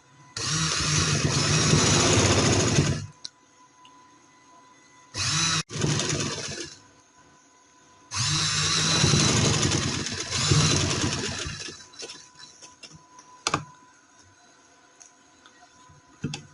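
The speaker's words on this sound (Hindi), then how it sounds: "अब ये सारे पे सिलाई लगा लेंगे किनारे किनारे पे।" A sewing machine stitches along the edges of fabric for a women's casual dress, running in three long loud bursts separated by quiet pauses, with no talk.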